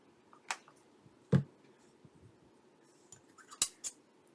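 Scissors cut paper while a handmade feminine journal is being made, giving a few crisp, separate snips with quiet pauses between them, close by.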